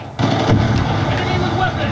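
A sticky grenade detonates in Black Ops 2 during a Hardpoint match on the Standoff map: a sudden loud blast followed by a sustained rumbling roar, with voices mixed in.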